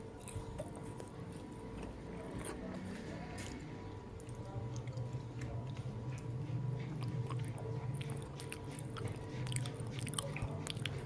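Close crunchy bites into crispy, spicy potato bread rolls, followed by a continuous stretch of moist, crackling chewing with scattered sharp crunches throughout.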